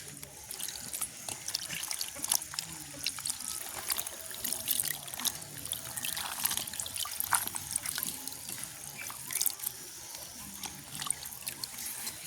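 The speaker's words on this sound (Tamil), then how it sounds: "ரெண்டு தண்ணியில் கழுவி எடுப்பேன்" Water splashes and trickles as mushrooms are rinsed by hand in a bowl or sink, with small irregular sloshes and drips throughout.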